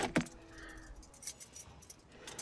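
Keys jangle in a movie scene as a woman gets into an old truck on a cold day, a quick close metallic rattle at the start followed by faint scattered clinks and light handling noise.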